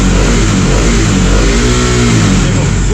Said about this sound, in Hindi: ये जो आपको साउंड आएगी ना ये सिर्फ और सिर्फ इंजन की साउंड है